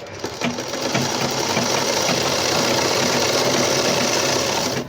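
Sewing machine running continuously while stitching the hem of a baby frock, a loud, close, even mechanical rattle with a rapid regular needle rhythm from start to finish and no talking.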